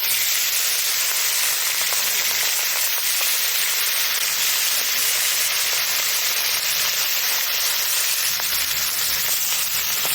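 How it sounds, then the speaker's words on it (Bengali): Fish fries in smoking-hot mustard oil with a loud, constant, dense sizzle that holds unbroken throughout, close and dominant, with faint background noise. "তেল গরম হয়ে গেছে, দিয়ে দেবো মাছ।"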